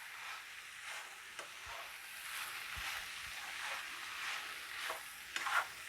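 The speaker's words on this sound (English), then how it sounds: "I'm going to mix the cabbage, the garlic, the onion, everything together." Cabbage, garlic and onion are stirred together in a pan for a lemon chicken and rice dish, giving a soft, steady sizzle with a few light scrapes of the utensil and no talking.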